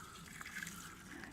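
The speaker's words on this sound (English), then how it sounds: "I will now water it" Steady pouring water onto allotment soil, a soft continuous splash and trickle with faint drips, close by and without talk.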